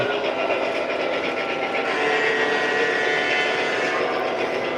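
A train rolls past in a steady, loud rumble with a dense wash of wheel and rail noise and faint tonal squeals, sustained without a break and with no voices.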